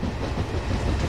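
Another train passing in Train Simulator 2013, a steady broadband rumble with faint clickety-clack, loud and continuous with no talk.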